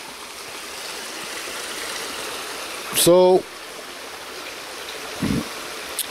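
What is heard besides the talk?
water draining out through a siphon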